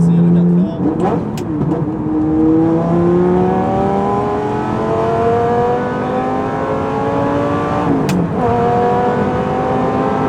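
Lamborghini Gallardo with a straight-pipe exhaust, manual gearbox, accelerating hard, its engine note climbing steadily through the gears with a brief shift pause near the end, loud and close from inside the car.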